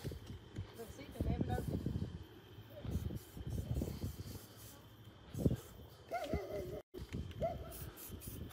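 A Chihuahua gives a few short, high yips amid people talking and moving around nearby, its barks brief and partly buried under the voices.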